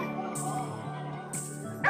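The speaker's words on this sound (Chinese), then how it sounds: "当大熊猫受到惊吓或生气时，会发出汪汪的狗叫声来恐吓对方" A startled or angry giant panda gives dog-like barks, a short series of close, rough woofs that rise and fall over about two seconds, with a sharper sound right at the end.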